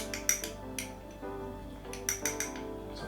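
A metal teaspoon clinks and scrapes against a bowl or jar while scooping nutmeg powder for a protein eggnog, giving a few sharp light taps in two short clusters, close and fairly quiet, with no talking.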